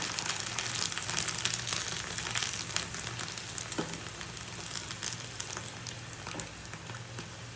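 Steady, dense sizzling of sun-dried rice crisps (vadiyalu) frying in hot oil, continuous and close, with faint crackles and no talking.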